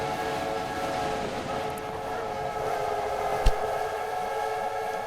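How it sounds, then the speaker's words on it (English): Steam-style train whistles blow in a continuous layered chorus at a busy London station in the Railway Empire game, with rumbling engine noise underneath and one short sharp clank. "London Station is just a whistle chorus"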